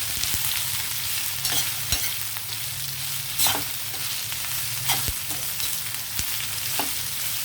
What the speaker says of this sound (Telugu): నేను ఇందులో కరివేపాకు వేస్తున్నాను, లేతగా ఉన్నది ఇది. ఒకసారి కలుపుదాము.